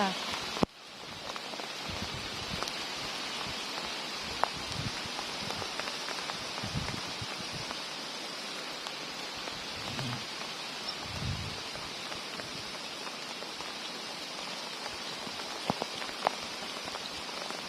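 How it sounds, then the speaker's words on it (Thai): Steady rain falls on a rubber plantation, a dense, even patter of drops on leaves and surfaces throughout, with faint voices now and then. "ไปไหนต่อฝนตกแล้ว อืม ฝนตก"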